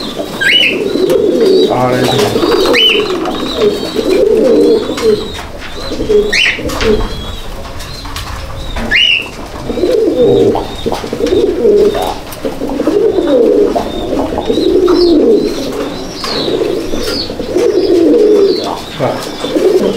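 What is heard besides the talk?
Holland Jacobin fancy pigeons cooing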